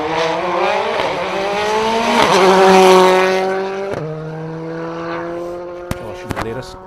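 A latest-model Hyundai rally car braking hard at the Circuit of Ireland Rally 2023: a loud, close, rasping engine drops through several downshifts, then sharp pops and crackles as it slows.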